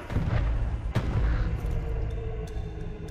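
A sticky grenade goes off in Call of Duty World at War multiplayer: a heavy, close boom with a low rumble and a sharp crack near the one-second mark, then fading debris noise.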